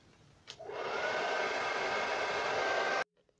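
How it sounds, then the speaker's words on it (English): Blow dryer switched on at its lowest speed and medium heat, a steady close whooshing roar that starts abruptly, holds for a couple of seconds and cuts off sharply. "So the blow dryer was really loud"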